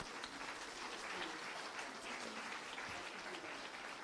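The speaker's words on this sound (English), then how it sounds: "A thunderous round of applause for this moment." Sustained applause from an audience at a live-streamed launch event for a children's rights journal issue, a steady dense wash of clapping that runs without a break throughout.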